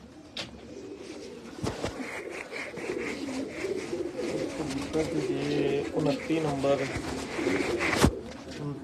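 Breeder pigeons of the spotted dabb type coo in a loft in Faisalabad, a low continuous murmur of calls under nearby speech, with a couple of sharp knocks.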